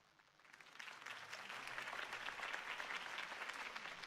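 Steady crowd applause at a political campaign rally in Batman: The Telltale Series swells in and holds as a soft, even wash of many clapping hands, with no talking.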